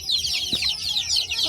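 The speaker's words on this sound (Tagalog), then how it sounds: "Lots of chickens also there. Lots of chicks there." Free-range native chickens cluck on a Philippine farm, a steady close chorus of clucks and calls lasting a second and a half with no talk over it.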